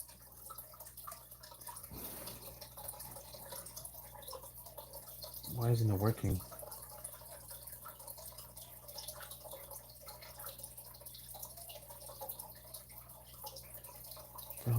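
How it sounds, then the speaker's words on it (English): A home fish tank trickles and drips steadily in the background while someone talks over it, with a brief louder thump partway through. "So yeah, that's the water sound that you hear. It's my fish tank."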